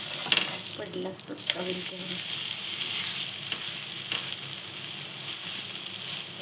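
A spinach paratha cooking on a pan over a low gas flame, a soft continuous sizzle with a few light scrapes and taps near the start, close by and fairly quiet.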